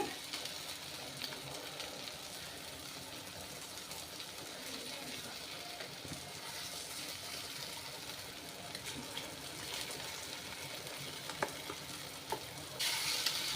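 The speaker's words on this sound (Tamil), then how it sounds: "முட்டையை கிண்டி அது கூட மிக்ஸ் பண்ணி விட்டுருங்க" Two eggs are stirred into softened, sautéed onions in a pan, giving a faint, steady sizzle with soft stirring scrapes and a few light clicks, heard alone at low level.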